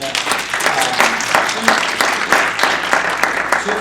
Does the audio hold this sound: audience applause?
yes